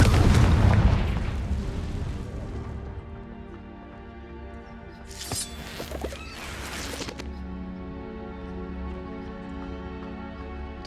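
Confringo spell blasts in the game Hogwarts Legacy: a deep booming explosion that rumbles away, followed a few seconds later by a second sharp crackling burst, then a lingering low rumble, with no talking.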